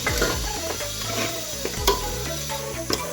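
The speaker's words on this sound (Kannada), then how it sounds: "ಖಾರ ಹಾಕ್ಕೊಂಡು ಚೆಂದಾಗ ಮಿಕ್ಸ್ ಮಾಡ್ಕೊಂಬಿಡ್ರಿ" A spoon scrapes and stirs chili powder through a bubbling North Karnataka-style chicken curry, with close, irregular scraping strokes and clinks over a soft simmer.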